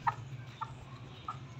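Hens clucking close by in a farmyard, with three short, soft clucks spaced out over a steady low background hum.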